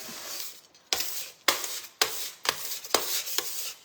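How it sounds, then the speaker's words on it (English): A bench scraper scrapes leftover dough off a kitchen work surface in about six firm, rhythmic strokes, each a close, dry scraping rasp starting sharply and trailing off, with no talking. "we're gonna clean up our workspace with our bench scraper"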